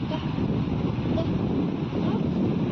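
Ocean surf on a clean Konkan beach at Diveagar: a steady, loud wash of waves mixed with wind buffeting the microphone, continuous throughout with no pauses.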